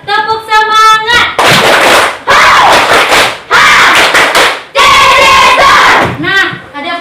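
Elementary school class doing a rhythmic spirit clap, loud bursts of clapping in groups broken by short pauses, with children chanting and shouting in unison between the claps.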